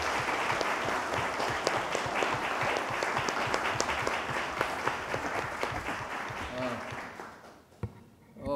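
An audience at All Saints Church applauds steadily for several seconds in a dense, even wash of clapping that tapers off near the end as the clapping fades out.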